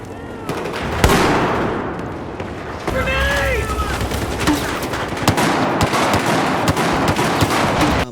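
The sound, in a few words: gunfire from guns in Battlefield 4 video game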